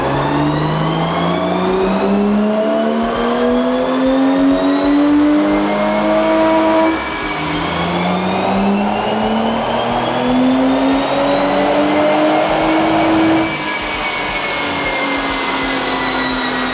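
A Lexus IS300 fitted with a swapped 3UZ V8 pulls hard through third gear, loud and close, the engine note climbing steadily in pitch, dropping briefly at the shift near the middle, then rising again to the end.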